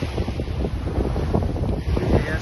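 Wind on a Fuerteventura beach rushes and buffets the microphone in a continuous low rumble, close and fairly loud, with a faint wash of surf beneath.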